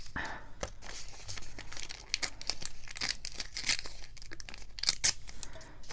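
Paper torn by hand for shabby tabs, close and crisp, with repeated ripping strokes and crinkling across several seconds, fairly quiet and with no talk.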